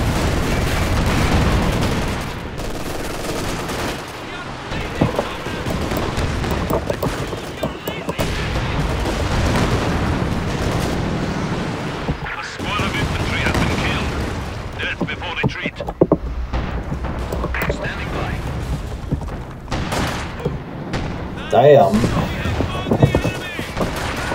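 Artillery barrages and rifle fire from a Company of Heroes 2 battle rumble continuously, with heavy booms and bursts dense throughout and a sharp loud blast near the end, while voices shout over the combat.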